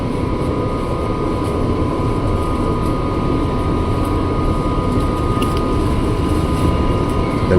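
A KRL commuter train for Tiga Raksa pulls out from platform 5 at Tanah Abang station, a steady low rumble and hum with a faint tonal whine, continuous and even throughout, no talk over it.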